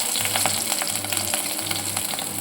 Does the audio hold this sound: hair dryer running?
no